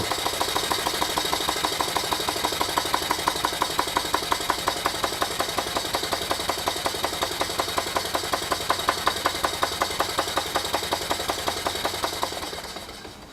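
A small Stuart beam steam engine model runs with a fast, even, mechanical chuffing and clatter. The rhythm holds steady throughout and fades at the very end.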